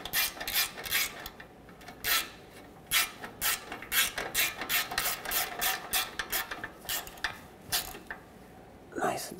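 Ratchet with a swivel tightening an exhaust manifold bolt on a 2007-2014 Chevrolet Silverado 2500 HD 6.0L V8, rapid rhythmic clicking strokes close up in quick bursts.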